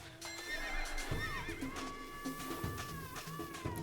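A horse whinnies in the horse stage of the video game Tetris Effect, a rising and falling neigh heard over steady layered game music and soft hoof-like clopping.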